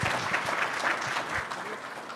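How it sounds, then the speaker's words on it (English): An audience applauds panelists at the close of a discussion, a steady, dense clapping from a crowd that holds through the whole moment. "Big round of applause, thank you."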